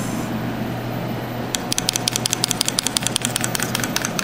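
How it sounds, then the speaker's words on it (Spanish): Keys on a computer keyboard are pressed in a fast run of close, crisp clicks that start partway through and continue steadily over a low background hum. "Presiono la letra S en el teclado y Enter."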